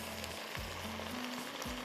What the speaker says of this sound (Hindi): और मैं इसमें दही डाल देती हूँ।